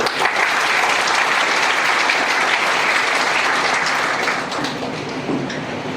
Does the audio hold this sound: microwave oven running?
no